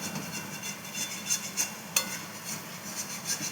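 Mutton fries and is stirred in a thick-bottomed kadai, a low steady sizzle under intermittent metal scraping and clinks of the spoon against the pan, with one sharper knock midway.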